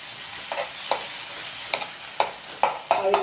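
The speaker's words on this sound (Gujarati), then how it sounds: "હવે ટમેટાને આપણે મિક્સ કરી લઈએ આમ" Tomatoes being stirred and mixed in a frying pan: a soft sizzle underneath, punctuated by about seven close, regular spatula scrapes and clacks against the pan, with no speech.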